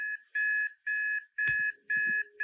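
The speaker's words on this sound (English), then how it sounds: "we want to stretch the alarm very, very, very, very far through the whole sequence" A synthetic electronic alarm used as a short-film sound effect beeps in steady repeating bursts, about five loud tones with short gaps, and a low thud lands under the middle of the sequence.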